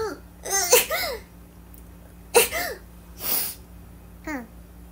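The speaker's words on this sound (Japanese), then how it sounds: "今日ずっと外にいたからさ、あのもうくしゃみが止まらない" A young woman who has been outdoors all day sneezes repeatedly, with several sharp, close bursts spread over a few seconds, mixed with small vocal sounds and a faint background hum.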